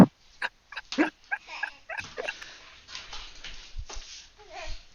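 A dog whimpering and giving short yelps and barks at close range, scattered in quick irregular bursts, with a person talking intermittently alongside.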